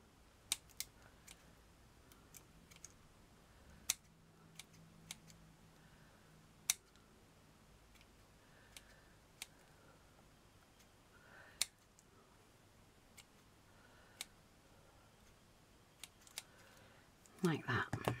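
Scissors trim a small piece for a miniature seaside surfing shack model, giving sparse, sharp snips and clicks spaced across a quiet room, with a brief burst of rustling handling at the end.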